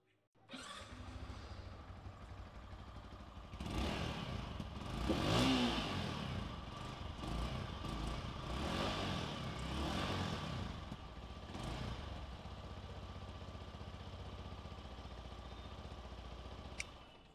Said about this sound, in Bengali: তো এই ছিল এই বাইকটার সাউন্ড